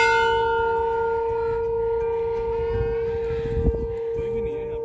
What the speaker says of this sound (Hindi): तो यहाँ मंदिर में है काफी सारी घंटियां और हम लोग इनको बजा रहे हैं।